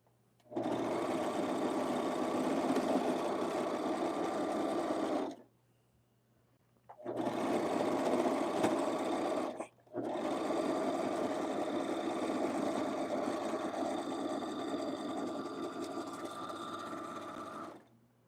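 A sewing machine stitching a patchwork t-shirt runs in three long, steady bursts of loud mechanical whirring, separated by two brief pauses, with no talk.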